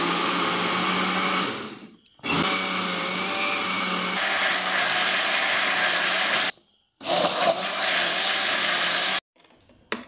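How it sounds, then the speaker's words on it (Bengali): Electric blender whirs loudly while blending raw mango ice cream ingredients with condensed milk, running in three long steady bursts separated by short silent pauses, with a final brief restart. "এখন সব উপকরণ আমি ব্লেন্ডার করে নিব।"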